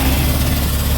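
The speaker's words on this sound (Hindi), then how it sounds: "स्टार्ट करो तो गाड़ी।" A Honda Activa BS6 scooter engine, just repaired for an engine noise problem, runs at a steady, loud idle with a continuous low rumble close by.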